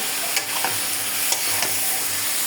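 A fish curry with potato and jackfruit seeds is sautéed in the pan, with a constant close sizzle and several spatula stirring scrapes, and no one speaking.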